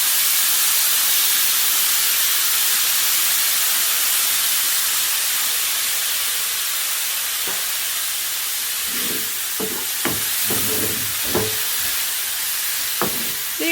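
Garlic and light soy sauce hit a hot pan for bibimbap, giving a loud, steady hiss of sizzling throughout, with a few short knocks and clatters near the end.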